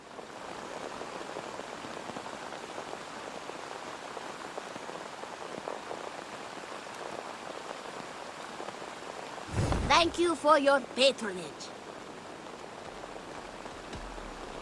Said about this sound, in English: It's England, it always rains.